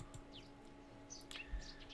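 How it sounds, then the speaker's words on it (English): Chickadee chirping in the game Reverse: 1999, a few faint, brief chirps scattered over a quiet indoor hum. "The only response is the chirping of the chickadee"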